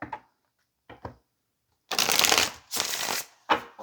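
Tarot cards are shuffled by hand in a few short riffles and taps, then two longer crisp bursts of cards flicking together, close and clear with no talk.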